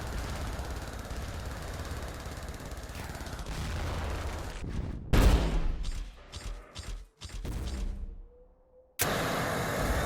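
The Bowie weapon in Mech Wars fires in a continuous rattling barrage of shots that sputters, breaks into uneven bursts and then drops out before resuming, heard at moderate level over game engine noise.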